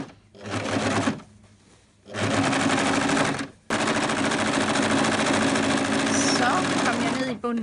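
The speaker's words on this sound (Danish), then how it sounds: "Og så syr jeg ærme sidesømmen her." A sewing machine stitches the side seam of a sweatshirt sleeve in a kitchen, running in three bursts of steady, rapid mechanical whirring split by short pauses, the last run the longest.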